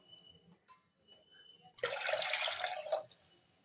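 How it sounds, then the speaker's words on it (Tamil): Water poured from a small vessel while cooking dal in a pressure cooker: a quiet room, then a steady splashing pour lasting just over a second before it stops abruptly. "சின்ன செம்பில் 2 செம்பு தண்ணி ஊற்றணும்."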